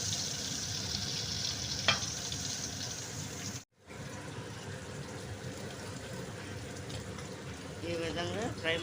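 Pieces of korameen fish frying in well-heated oil, a steady broadband sizzle running throughout with a brief dropout partway, and a voice talking over it.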